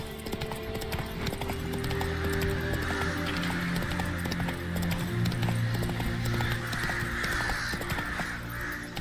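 Horse hooves clip-clop steadily under a continuous bed of sound, with faint bird caws and a low hum mixed in.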